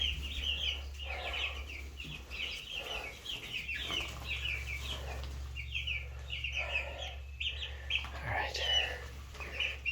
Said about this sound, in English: So the chicks are doing pretty good.